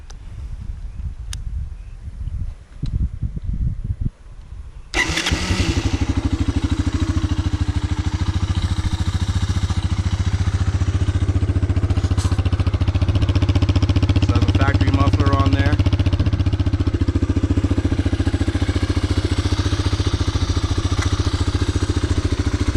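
A Honda ATC 250es three-wheeler, used for wheelies and cruising, starts after some rustling and handling, then runs loud and steady at a close idle with a brief rev partway through.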